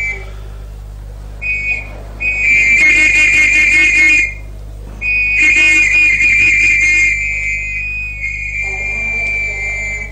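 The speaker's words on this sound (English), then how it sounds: "I'm going to have to pucker up and whistle." A person whistles with puckered lips in a 1981 radio detective drama, two long sustained shrill whistle blasts separated by a short gap, loud and close.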